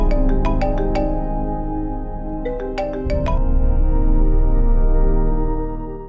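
A mobile phone rings with an incoming call, its electronic ringtone melody repeating in bright chiming phrases over a sustained musical backdrop, loud and close.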